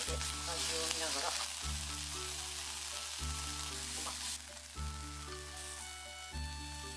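Ginger and large onion salt koji sizzle in a pan, a steady bright frying hiss with periodic soft stirring scrapes, alone without talk and with a quiet tonal background.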